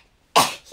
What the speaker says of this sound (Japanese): なんか今日よくね、くしゃみ出ますね。